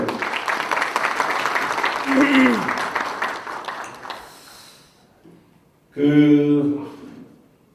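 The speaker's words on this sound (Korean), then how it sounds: "우리 큰 감사 박수 한번 주시고" A hall of Democratic Party local government heads at a 2019 training session gives thanks applause. The full clapping fades away over about four seconds, a voice cuts in over it, and a speaker talks again after a brief lull.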